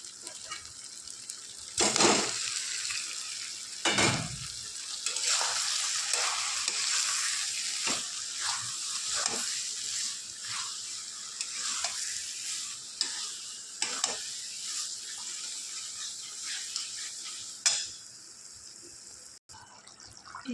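Paneer fries in masala for butter paneer masala, giving a continuous hissing sizzle with repeated scraping bursts as it is stirred; no speech.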